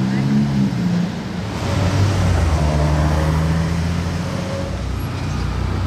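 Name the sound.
Ferrari Portofino M car engine driving past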